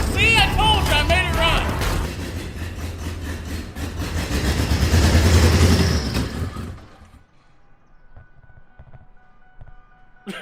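A 4x4 Lincoln's engine runs roughly after repairs, a loud close drone with talk and other noise over it, then it cuts out into near silence with faint ticks and a low hum.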